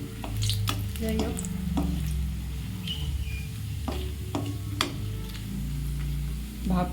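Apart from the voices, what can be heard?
cashews frying in a wok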